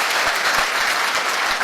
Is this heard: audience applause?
yes